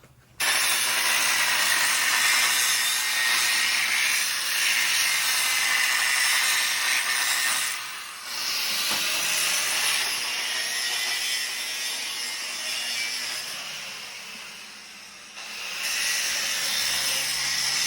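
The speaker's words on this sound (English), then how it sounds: "cutting that lip off and grinding it down so we can start making the spring hangers" An angle grinder cuts and grinds a steel lip off a 1987 Chevy G20 4x4 van's front leaf spring hanger area. The grinding is loud and close, a continuous harsh whine and hiss with brief dips as the tool lifts off the metal.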